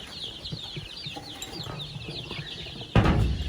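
Fifty young chicks cheep and peep at a farm feeder, a steady chorus of high, overlapping chirps, followed near the end by a louder close-up rustle or clatter.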